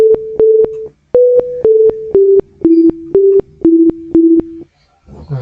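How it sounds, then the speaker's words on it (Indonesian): Si Unyil ringtone melody played back from a program: a clean electronic beeping tune of short pulsed notes in quick, even rhythm, stepping through a few pitches for about four and a half seconds, loud and alone. "Nah, seperti itu suara dari ringtone si unyil."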